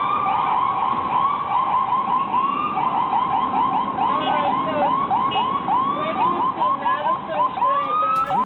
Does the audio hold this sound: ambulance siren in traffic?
yes